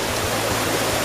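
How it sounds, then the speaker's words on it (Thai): Constant rushing roar of a multi-tiered waterfall in Chiang Mai, loud, broad and unbroken, heard close with no voices. "ผมนับดูน้ำตกเนี่ยประมาณ10ชั้นได้นะครับ"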